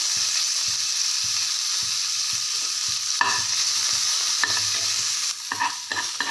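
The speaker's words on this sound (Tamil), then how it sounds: "நல்லா எல்லாம் பொரிஞ்சிருச்சு" Steady sizzling of tempering spices and chopped ginger frying in hot oil, with occasional stirring scrapes and clinks of a spoon against the pan.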